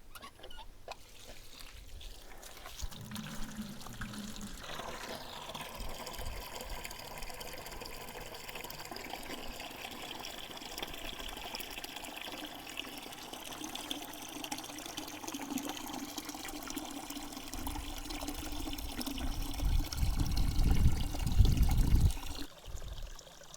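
Water runs into a 5-gallon bucket being filled as a poultry waterer, a steady close trickle and pour that builds and grows louder and fuller toward the end before cutting off.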